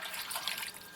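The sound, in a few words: water poured over potatoes in a pot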